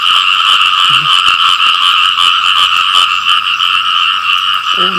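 Frogs croaking in a wet field at night during frog catching, a loud continuous chorus of dense overlapping calls, with faint nearby rustling and a brief low voice.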